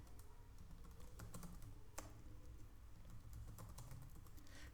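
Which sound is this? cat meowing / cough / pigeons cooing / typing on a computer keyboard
typing on a computer keyboard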